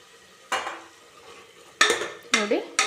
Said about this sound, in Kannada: ಇದನ್ನು ಹಾಕ್ಕೊಂಡ್ಬಿಟ್ಟು ಚೆನ್ನಾಗಿ ಫ್ರೈ ಮಾಡ್ಕೊಳ್ಳೋಣ.